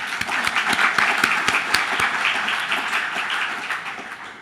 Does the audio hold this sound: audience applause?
yes